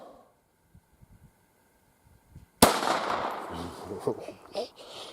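An old gun handed down from a grandfather fires a single sharp, loud shot outdoors after quiet stretches of faint voice, and the blast is followed by a long, rumbling decay.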